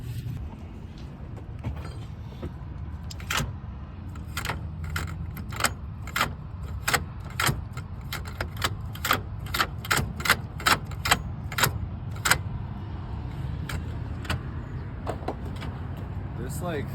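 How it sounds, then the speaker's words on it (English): A Mk5 GTI gear shifter with a CTS short shift kit being moved through the gears, heard as a long series of sharp clicks and clunks at an irregular rhythm, with talking under them. "Okay, let me try the shifter."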